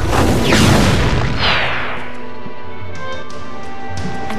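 A heavy fiery blast from the Heat Cannon spell in Arc the Lad: Twilight of the Spirits erupts in one loud, booming explosion with a crackling burst, then rumbles away into a fading tail.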